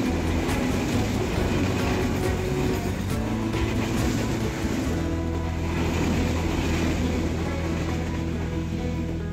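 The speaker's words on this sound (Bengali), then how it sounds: "রাজশাহী থেকে ছেড়ে আসা বনলতা এক্সপ্রেস ট্রেনটি তার আপন গতিতে আমাদেরকে" Banalata Express train out of Rajshahi rolls past a railway crossing near Natore, giving a sustained, loud rumble with droning engine tones that holds steady throughout, with no speech.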